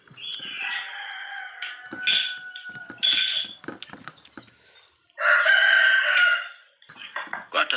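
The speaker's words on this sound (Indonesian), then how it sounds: "Kok ada kayak suara ayam berkokok?" A rooster crows in several loud bursts with drawn-out calls, some clucking and scattered clicks between them, heard during an online religious lesson.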